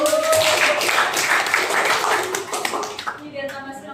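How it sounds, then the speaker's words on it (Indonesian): A classroom of pupils gives a round of applause during a lesson: dense, steady clapping for about three seconds that thins out and fades, with a voice coming in at the end. "Kita kasih aplaus dulu."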